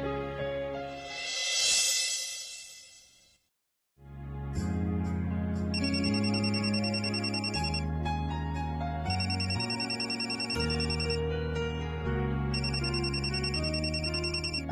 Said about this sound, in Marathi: तुझा फोन आलाय बघ.